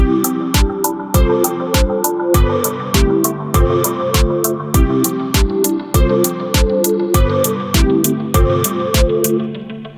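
Punchy electronic drums pound out a steady beat while repeating synth chords play in rhythm, loud and continuous with no voices.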